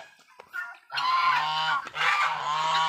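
Guinea fowl giving loud, harsh, honking calls nearby: two long, strained blasts after a few softer sounds, with no voices.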